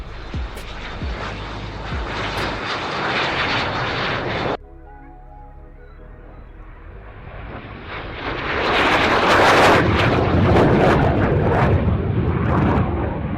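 An aerobatic airplane performs at the Oshkosh airshow, its engine drone loud, then it cuts away to a quieter lull before the roar builds again as the plane passes near.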